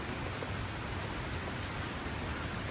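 Steady rain falling aboard the sailing catamaran SV Catmantoo, a dense, even hiss of drops on surfaces, continuous and fairly close, with no voices.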